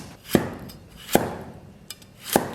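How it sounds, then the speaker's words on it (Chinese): Knife chopping a carrot into slices on a cutting board, three close, sharp thuds spaced about a second apart with faint handling noise between. "把这胡萝卜给它切成片儿"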